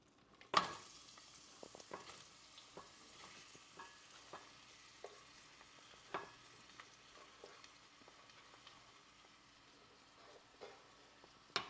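Onions and chicken wings frying in hot oil, a steady soft sizzle with scattered crackles and the clack of a stirring spoon, fairly close and without talk.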